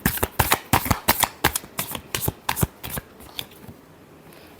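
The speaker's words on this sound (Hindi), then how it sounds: "last shuffle" Tarot cards being shuffled by hand in a quick series of crisp riffling bursts, about a dozen close, loud strokes that thin out toward the end, with no voices.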